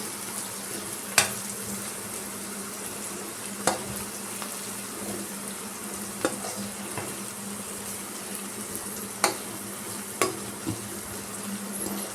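Spices and slit green chillies sautéing in a pan for a fish stew give a soft, steady sizzle, punctuated by a few sharp clicks and taps of the spoon against the pan, no talking.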